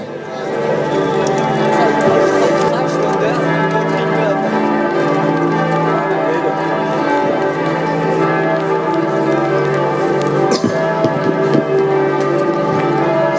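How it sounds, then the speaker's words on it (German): Church bells ring continuously in a French town setting, a dense, loud wash of overlapping peals that holds steady throughout, with faint crowd murmur and stray voices beneath. "So, wir warten auf die Ende der Glocken"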